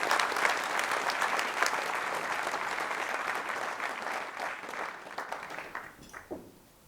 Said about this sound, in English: Let's get a big round of applause for our volunteers.